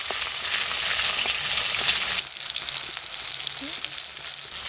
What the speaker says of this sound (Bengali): আমি ফোড়নে দিচ্ছি জিরা, পেঁয়াজ কুচি, রসুন কুচি, কাঁচা লঙ্কা, টমেটো কুচি